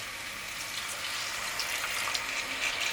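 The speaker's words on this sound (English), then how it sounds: "So what we're gonna do now is we're gonna add a touch of water." Water is added to curry chicken frying in a hot pan for a St Vincent style roti, a loud steady hissing sizzle close by that continues without pause.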